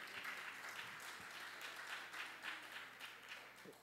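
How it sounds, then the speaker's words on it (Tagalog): A church convention audience gives faint, scattered applause, a soft continuous patter of clapping heard from a distance for a few seconds. "O, kunting palakpak naman lang."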